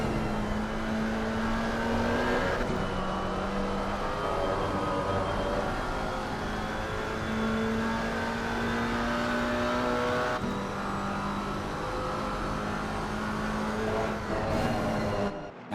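Porsche GT4 race car engine howling steadily through corners on a circuit, loud and continuous with rising and falling revs and gear changes, no talk.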